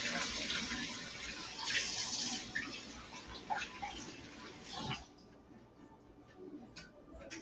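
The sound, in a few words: water from a tap rinsing herb sprigs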